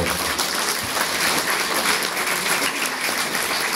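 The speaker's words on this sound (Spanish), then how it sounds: "un aplauso para todos ellos, por favor" Audience applause for folk dancers at a ceremony, dense continuous clapping throughout, loud and even with no clear voices over it.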